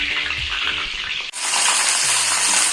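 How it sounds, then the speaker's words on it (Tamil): Soya chunks (meal maker) frying in hot oil, a loud, steady sizzle that briefly drops out and then returns brighter and stronger, close and without talk. "பாருங்கள் இப்போ மீல் மேக்கர் பொறிஞ்சிச்சு"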